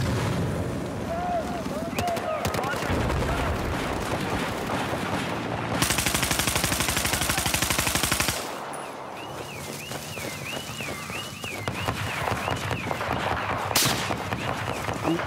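Video game gunfire and sniper shots crackle throughout, with a dense burst of rapid automatic fire in the middle, set against game sounds while a player talks over the action.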